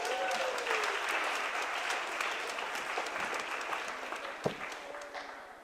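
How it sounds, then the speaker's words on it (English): An audience at an after-party event breaks into applause, a dense, steady clatter of many hands clapping at moderate distance that gradually tapers off. "Round of applause."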